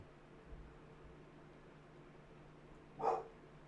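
A single short dog bark, fairly close, breaking through a quiet background hiss.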